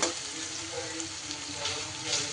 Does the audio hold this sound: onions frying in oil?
yes